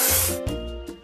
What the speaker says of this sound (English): Let's paint over the discoloration.